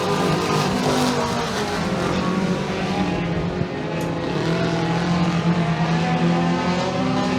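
Race cars roaring around the Genesee Speedway oval during a heat race, a dense, continuous engine drone with rising and falling pitch as several cars run nose to tail, loud and unbroken throughout.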